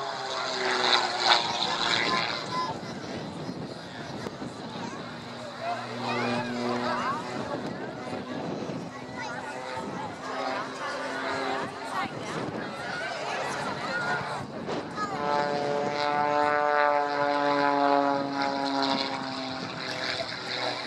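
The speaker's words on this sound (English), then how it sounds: "The power for all these manoeuvres is provided by a 6-cylinder engine, developing some 260 brake horsepower, and a mighty impressive growl as well." An aerobatic propeller plane with a 6-cylinder 260 hp engine growls steadily throughout, its pitch rising and falling as it manoeuvres at an air show, with a commentator talking over it.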